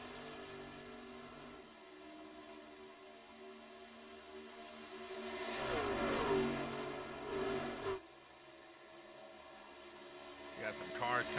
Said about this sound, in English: Got some cars coming out of the pits already.